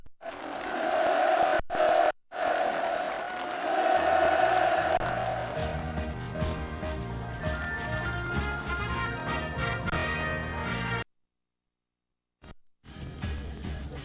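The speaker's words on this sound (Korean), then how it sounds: "참가자들의 열렬한 박수 속에 전달됩니다." Participants at a new-home move-in gathering on a North Pyongan farm applaud enthusiastically, with loud sustained clapping and crowd cheers that give way to music, then a short silence before sound resumes.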